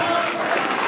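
Audience applauding at a kickboxing event, a brief steady burst of dense clapping and crowd noise filling the space at close range.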